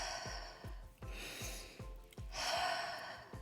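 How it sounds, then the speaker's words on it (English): Deep breathing during a breath work exercise, with repeated forceful inhales and exhales in a steady rhythm, heard close up and fairly quiet, with no talking. "breathing in and out very deeply or rapid breathing"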